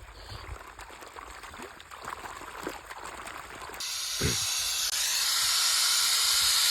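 Water splashing and spraying outdoors in a village, a broad steady rush that starts partway through and swells loud after a quieter stretch of background noise.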